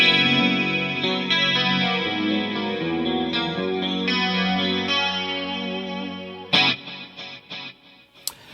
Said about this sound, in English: in my Quad Cortex preset, I actually have delays that are ping-ponged as well, so you should be hearing the delays going left to right